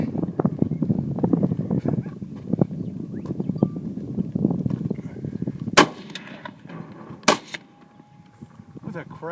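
Two sharp, loud rifle shots are fired at a fridge outdoors, a few seconds apart, after a stretch of wind and rustling noise with people talking.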